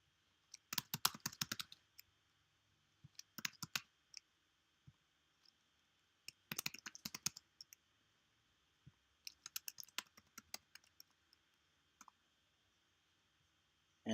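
Fingers type on a computer keyboard in quick bursts of light clicking, separated by short pauses. The sound is close and quiet, with no other sounds.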